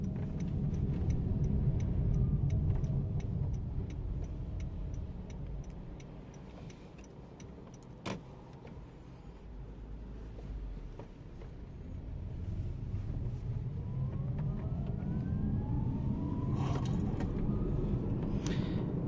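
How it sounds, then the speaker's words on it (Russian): Electric motor whine inside a GAC Honda Everus VE-1 electric car while driving, a faint continuous hum with rising and falling whine and light ticking, quiet cabin with no talking. "Есть шум при работе мотора."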